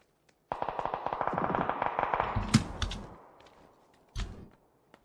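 Rapid bursts of automatic gunfire in the battle royale game PUBG, a dense rattling volley for about two seconds, then a sharp shot with a tail, and one more short burst after a pause.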